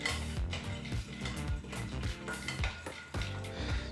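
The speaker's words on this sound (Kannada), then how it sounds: "ಎರಡು ನಿಮಿಷಗಳ ಕಾಲ ಲೋ ಫ್ಲೇಮ್ನಲ್ಲೇ ಕಡಲೆಕಾಯಿ ಬೀಜನ ಫ್ರೈ ಮಾಡ್ಕೋಬೇಕಾಗತ್ತೆ" Peanuts roasting on low flame in a hot pan make repeated scraping and rattling as a spatula stirs them, in rhythmic bursts with a soft sizzle beneath.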